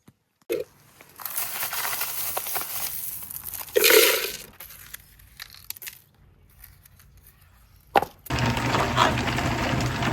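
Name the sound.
serpentine stones being put back into vibratory tumbler barrel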